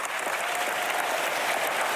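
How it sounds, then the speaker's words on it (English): Audience applause at a formal debate on anti-Zionism and antisemitism, dense steady clapping from a crowd filling the hall, loud and sustained without pause, no voices rising above it. "I don't know why they're clapping."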